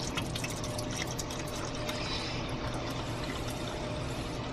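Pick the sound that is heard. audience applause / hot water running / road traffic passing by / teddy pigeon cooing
hot water running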